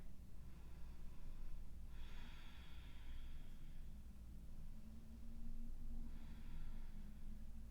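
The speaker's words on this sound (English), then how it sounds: "take your last couple breaths here" Slow, deep breathing during a yoga flow, faint and close, with two soft breathy swells several seconds apart over a steady low background hiss.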